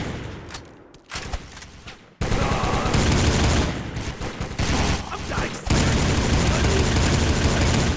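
Assault rifle fire from the 2007 shooter Soldier of Fortune: Payback rattles in sustained loud bursts, briefly interrupted by quieter moments before dense automatic firing resumes and continues to the end.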